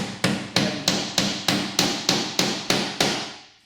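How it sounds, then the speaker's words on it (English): Ten sharp hammer blows drive a nail into metal drywall corner bead at an even pace, each ringing briefly before the next, close and loud with no talking. "Put the nail in, make sure it's nice and flush."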